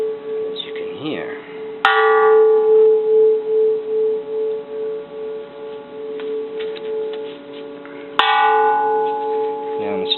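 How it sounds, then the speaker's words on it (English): A bronze Japanese Edo-period Buddhist temple bell is struck three times with the edge of a striker. Each hit gives a sharp metallic onset and then a long wavering hum with slow beating, and faint handling noises fall between the strikes. "Now I'm striking with the edge of this striker here."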